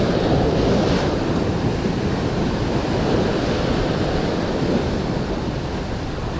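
Ocean waves break on the shore at Fuerteventura in a continuous, loud, rushing roar of surf, with wind buffeting the microphone and no talking.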